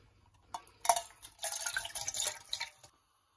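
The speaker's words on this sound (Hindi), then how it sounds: "तो सबसे पहले हम इसमें दूध डालते हैं।" Milk is poured into a pan on the stove for carrot pudding, a short burst of splashing and trickling liquid lasting about two seconds, close and fairly quiet.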